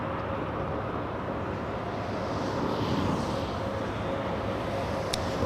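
An airliner painted in a retro livery at LAX airport gives off a steady, broad jet roar that holds at an even level throughout, with no voices.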